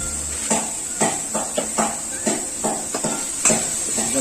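Tomatoes frying in a pan for a dhaba-style paneer dish, a constant hiss of sizzling broken by regular scraping and tapping of a spoon stirring against the pan, close and without talk.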